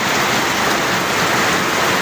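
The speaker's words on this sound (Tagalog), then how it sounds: "sobrang lakas ng ulan" Heavy monsoon rain pours down steadily in a hilly part of Zambales, a dense, loud, unbroken hiss heard from indoors by a window, with no voices.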